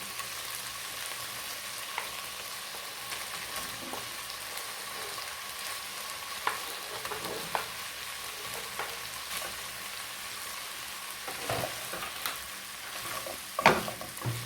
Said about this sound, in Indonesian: Aduk sampai sayurannya ini layu dan setengah matang ya, biar menyatu dengan bumbunya.